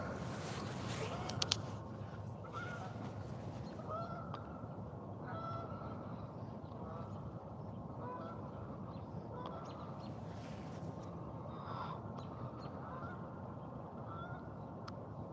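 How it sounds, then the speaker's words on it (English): Four Canada geese honk repeatedly in short calls over a steady outdoor rumble, some calls nearer and louder, others fainter in the distance. "There's 4 of them Canadian geese."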